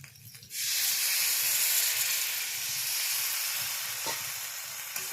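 Water poured into a pan of deep-browned fried potatoes sets off a sudden loud, sustained hiss and steamy sizzle that slowly eases, with a faint clink near the end.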